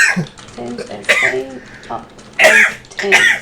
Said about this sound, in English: Sorry, that was a sneeze, not a cough.